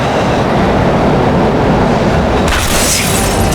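A tram rolls into a station in the video game Max Payne 3, a loud, continuous rumble of rail noise with a heavier, brighter clatter building in the last second as it closes in.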